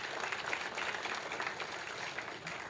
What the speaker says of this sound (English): Just give a big round of applause to all of our families who support everything we do.